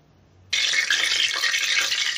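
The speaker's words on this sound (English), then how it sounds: "The first ingredient that goes in is the oil" Oil pours into a pressure cooker, a sudden bright hissing splash that starts abruptly and continues steadily at close range with no talk.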